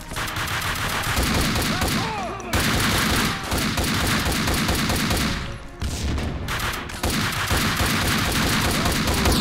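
Rapid bursts of Ingram submachine gun fire in the Max Payne 2 video game, dense and loud, come in several long volleys separated by short gaps.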